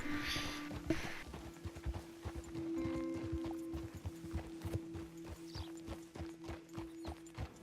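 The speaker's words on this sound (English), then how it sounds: "horse right there." Steady clip-clop of horse hooves walking at an even pace, fairly close, over a continuous low hum and faint background ambience, in the video game Red Dead Redemption 2.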